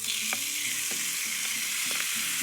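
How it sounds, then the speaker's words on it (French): Shrimp frying in a skillet over medium-high heat, a steady loud sizzle with soft periodic scraping from stirring, close and continuous with no voices. "Pendant que tu fais cuire les crevettes, environ 5 minutes à feu mi-vif dans le poêlon"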